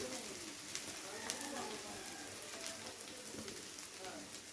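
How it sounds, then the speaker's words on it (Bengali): Whole spices fry in oil in a pan for tel potol, making a faint, steady crackling sizzle with small pops throughout. "সমস্ত মশলা একসাথে খুব ভালো করে ভেজে নেওয়া হয়ে গেছে।"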